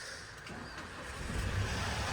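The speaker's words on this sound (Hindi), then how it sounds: "गाड़ी तो हो गई स्टार्ट" A car engine idling just after starting in heavy snow, a low steady rumble that swells slightly louder midway, heard up close with no voices.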